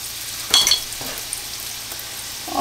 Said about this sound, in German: Ich lasse die kurz richtig gut anbraten.